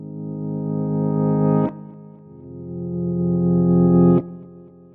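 A synthesizer preset from the REV instrument set to a longer note length plays two drawn-out notes, each swelling with a distorted, chorus-like shimmer before cutting off abruptly, heard alone and fairly loud.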